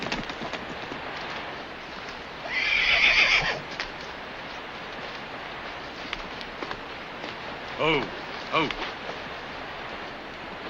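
Horse neighing in a Western setting, one loud whinny early, then a couple of shorter whinnies later, amid quiet hoof clops and low background noise.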